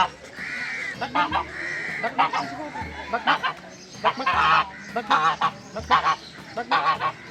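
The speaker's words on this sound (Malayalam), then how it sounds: "ഇത് തലയിൽ തൊപ്പിയുള്ള താറാവ്" Loud, repeated honking quacks from a nearby crested duck, coming in short bursts with brief gaps, while a person talks intermittently.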